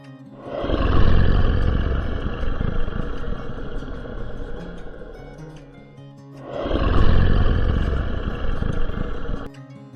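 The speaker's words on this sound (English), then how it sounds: "Tiger" A tiger gives two long, loud roars, the first running about five seconds and the second following after a short pause, each deep and rumbling with a sustained growling tail.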